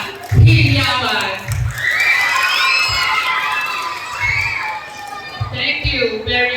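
An audience at a Queen of Queens pageant cheers and shouts loudly with excited whoops and children's voices throughout, though little clear clapping stands out, and a host's voice is heard over the crowd.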